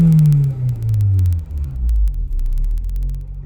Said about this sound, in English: I'm going to rev it up and see if it drops through.